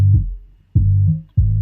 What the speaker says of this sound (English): your Exciter is it kind of crunches your frequencies, and especially on the bass